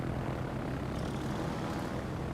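Fighter planes drone by in World of Warships. The propeller engine roar is steady and fills the whole stretch, with no talk over it.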